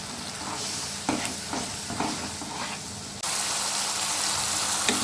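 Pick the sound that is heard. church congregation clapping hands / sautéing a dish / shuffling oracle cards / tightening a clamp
sautéing a dish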